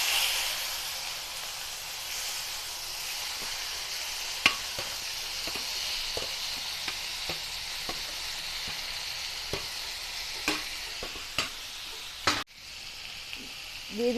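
Bay leaves, whole cumin seeds and flat beans frying in hot oil, a loud continuous sizzle and hiss with scattered light pops and stirring clicks, close up and steady throughout.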